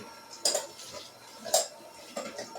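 Sous vide chuck roast is torn apart into shredded beef with two forks, giving three distinct metallic scrapes and clinks against a dish at roughly one-second intervals, close and quiet between strokes.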